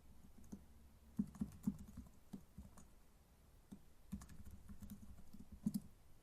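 Soft, faint keystrokes tap on a computer keyboard in uneven clusters with brief gaps, close but low in level over a quiet hum, with no talking.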